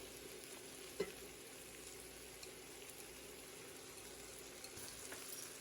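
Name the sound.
garlic and Trinity vegetables sautéing in a pan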